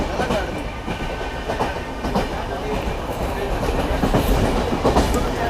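The North East Express rolls past Ghaziabad station with a loud, close, continuous rumble and rhythmic clickety-clack of wheels over rail joints, steady throughout with a slight rise toward the end.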